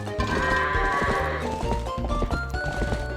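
Goats bleat repeatedly in Legend of Zelda: Twilight Princess, loud wavering cries layered over game music with rhythmic percussive hits and no speech.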